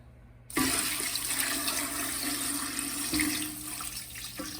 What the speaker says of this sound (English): add water just enough to cover